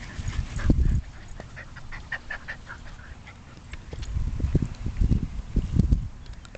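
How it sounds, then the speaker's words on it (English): Sheltie puppies romp and scuffle close by, with soft thumping paws, bursts of panting and a few little whimpers in uneven spurts. "We got three in the middle of puppy zoomies, and Stella is sort of asleep on my leg here"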